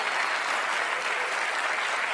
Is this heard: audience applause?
yes